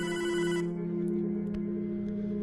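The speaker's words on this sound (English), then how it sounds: "It's the phone. You should answer it." A telephone rings in the video game Hotline Miami 2, a loud sustained electronic tone that cuts off partway, leaving a steady droning background hum with faint clicks.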